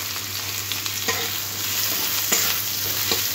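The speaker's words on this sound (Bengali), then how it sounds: "আলুগুলো তেলের মধ্যে একটু নাড়াচাড়া করে ভেজে নেব।" Potatoes stirred and fried in hot oil give a steady, close sizzle with scattered scraping stir strokes of a utensil against the pan, no voices over it.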